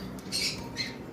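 A cream face red-eye male cockatiel at a bird farm gives two short, faint squawks over quiet background noise.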